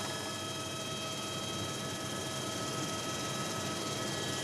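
A helicopter flying over the Ain river gives a steady, loud, unbroken rotor and engine drone with a constant tonal whine, heard alone throughout.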